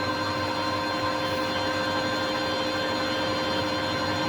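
A metal lathe cuts a chamfer on the end of a part for a custom retro Suzuki GSX build, giving a steady, even machine hum with tonal whine throughout and no pauses.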